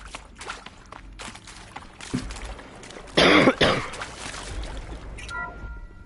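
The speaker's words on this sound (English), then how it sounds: "Hell yeah, we're all clearing our throats" Throat clearing during Horizon Zero Dawn gameplay, a loud rough burst in the middle among scattered softer clicks and shuffles, with quieter rustling before and after.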